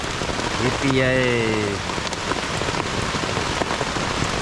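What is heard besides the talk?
heavy rain on a tent during a thunderstorm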